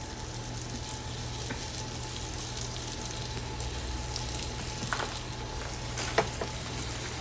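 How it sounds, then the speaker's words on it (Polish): Pork ribs fry in homemade lard in a hot pan, giving a steady, even sizzle with a few sharper crackles and pops near the end, close and continuous with no talk. "Dzisiaj będę smażyła na smalcu."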